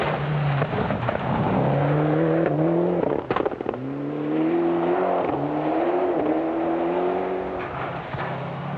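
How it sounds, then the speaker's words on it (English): Ford Escort Cosworth rally car at a 1997 rally, engine revving hard with rising and falling pitch through gear changes, a couple of sharp crackles, fairly close and loud. "And Alan Dixon was certainly making plenty of noise in his Ascot Cosworth"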